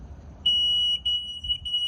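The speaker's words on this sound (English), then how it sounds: "And then just beeps." A 2001 Sea-Doo GTX RDI jet ski that won't start gives a thin, high electronic beep, a long tone followed by a couple of shorter ones, over a quiet low background hum.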